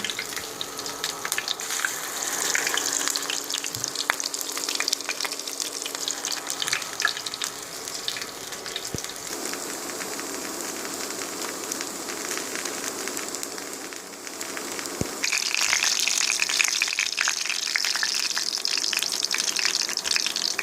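Beet cutlets sizzle in a frying pan, a steady close crackle and hiss running throughout and growing louder and brighter near the end.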